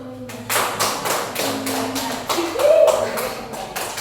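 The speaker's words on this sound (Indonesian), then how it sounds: "Tepuk tangan dulu." Classroom clapping from a group of primary school pupils, a run of regular sharp claps repeating through the moment with a voice briefly heard underneath.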